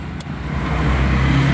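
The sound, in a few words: car engine starting with key, driving lesson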